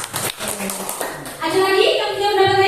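Applause breaks out in a classroom, a short burst of many hands clapping together after a lesson discussion, with teacher and children talking just before it.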